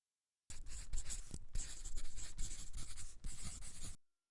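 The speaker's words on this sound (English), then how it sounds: "Let me just write down the result." Pen or marker writing out a binomial expansion result, a continuous close scratching and rubbing with short pauses between strokes, alone with no talking.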